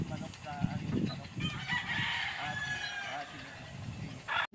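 A rooster crows on a farm in the Philippines while chickens cluck around it, with the drawn-out call rising in the middle and low background talk and bustle throughout.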